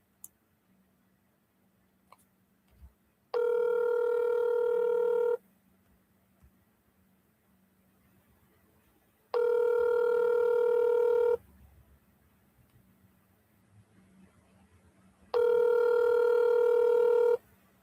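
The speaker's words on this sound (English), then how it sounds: "I'm double dialing everybody." An outgoing phone call rings three times while a real estate wholesaler calls leads. Each steady tonal ring lasts about two seconds, separated by roughly four-second pauses over faint room hum.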